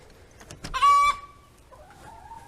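Chickens in their permanent enclosure in an urban garden give one loud, drawn-out squawking call, followed by softer clucking noises. No one speaks.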